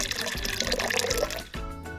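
Water is poured for a working LEGO train contraption, a close, splashy burst of liquid lasting a couple of seconds before briefly tapering off.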